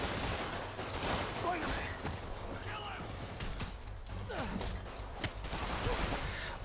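Enemy gunfire in the PS4 Spider-Man game, rapid bursts of shots and crashes rattling continuously with mechanical clatter, while a voice speaks over the combat.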